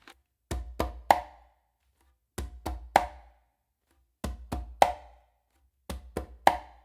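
Four repeated groups of three sharp hand-drum strokes on a conga, a deep bass tone, a finger stroke and a close slap with the dominant hand, with short silences between groups.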